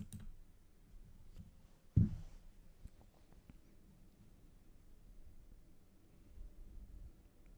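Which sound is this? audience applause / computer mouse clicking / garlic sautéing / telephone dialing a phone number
computer mouse clicking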